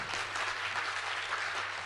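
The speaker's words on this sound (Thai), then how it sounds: "ขอเสียงปรบมือกันทั้ง3ท่านด้วยครับ" Audience applause after speakers are introduced at a smart city business and funding seminar in Phuket, a steady broadband clapping that holds at a moderate level through the short stretch.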